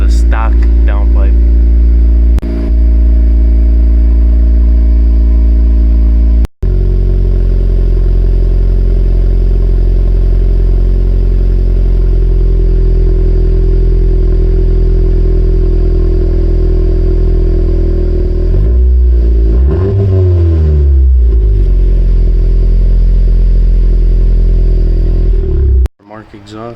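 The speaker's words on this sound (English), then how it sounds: "Gonna be the Remark exhaust with a stock downpipe." Cold start of a car fitted with a Remark exhaust and stock downpipe: a loud, steady, deep exhaust drone that holds through most of the clip, broken by a brief rev around the twenty-second mark.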